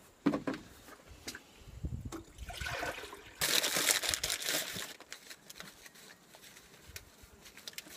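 Tap water poured out for brewing kombucha in a campervan, a splashing gush that swells and rushes for a couple of seconds amid faint rustling and handling noises.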